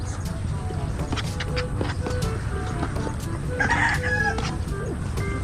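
A rooster crows once, loud and close, over a noisy outdoor background with chatter from other birds and fowl on a Philippine farm.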